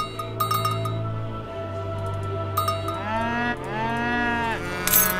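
Cattle moo several times in the Age of Empires III strategy game, long drawn-out lowing calls over steady game music and ambience, with no talk.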